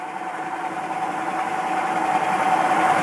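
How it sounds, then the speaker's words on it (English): A Lagun vertical milling machine with a 3-horsepower variable-speed spindle runs steadily with a constant mechanical hum and whine, close and continuous with no talk. "Here we have a Lagun vertical milling machine"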